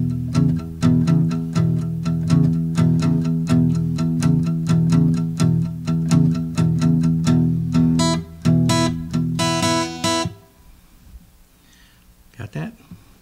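A guitar plays palm-muted picking on the high first or second string in a riff: a steady run of short, damped plucks that ends in a few brighter strums before falling quiet.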